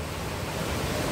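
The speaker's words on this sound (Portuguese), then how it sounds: "Som, esse som aqui é muito bom. Som do mar." Sea waves roll in at a beach deck beside green vegetation and rocks, a steady broad wash of surf close by with no pause.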